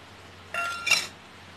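Garlic, ginger and onion pieces dropped into a mixer grinder jar, giving two quick clinking clatters against the jar under a low steady hum.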